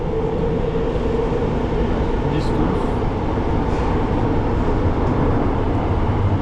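A Singapore metro train in motion, heard from inside the carriage as a steady rumbling roar with rail noise running throughout, and people talking close by over it.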